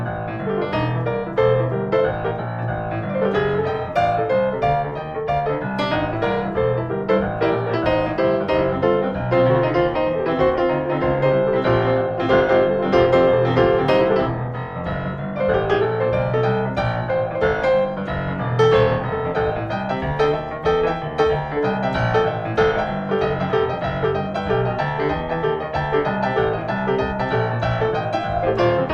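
A piano plays an advanced boogie woogie walking bass line, a driving, steady left-hand pattern rolling on for about half a minute at even loudness with chordal accents above, with no talking.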